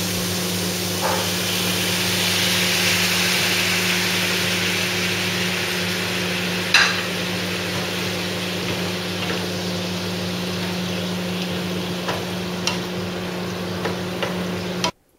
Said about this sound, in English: Now you need to give it a good stir.